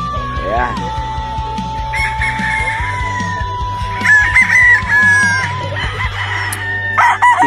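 A gamefowl rooster crows loudly and squawks up close at a large game farm, from a tornado hatch line. The long drawn crow sits over steady background clucking and scattered farmyard noise.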